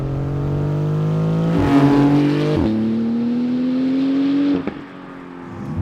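A Porsche 911 GT2 RS accelerates hard from inside the cabin, its engine note climbing through loud rising sweeps broken by quick gear changes before easing off near the end.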